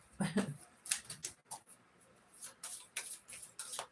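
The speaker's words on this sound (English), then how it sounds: "There's not many cards in this deck. So it's hard to shuffle." Quiet, irregular riffling and flicking of cards being shuffled in short bursts, close by and soft.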